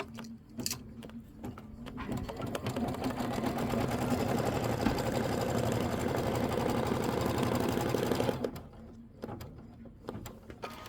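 An embroidery machine stitches a placement line for a faux leather appliqué sample, a steady rapid mechanical whir running loud and continuous for about eight seconds before stopping, with quieter handling noises at either end.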